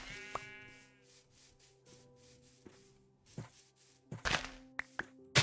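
Sheep bleats in the Minecraft video game, short nasal calls heard amid soft thunks, rubbing and footstep-like clicks, with a few sharp knocks near the end.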